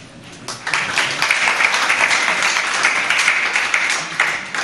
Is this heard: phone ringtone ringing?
no